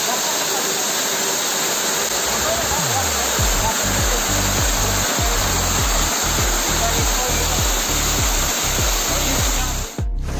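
A waterfall at Malshej Ghat roars as a steady, close, broadband rush of falling water, with low buffeting thumps from wind or handling throughout.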